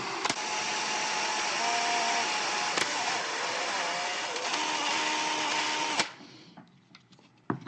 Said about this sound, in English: I'm going to start with an 1/8 inch bit here, just kind of get started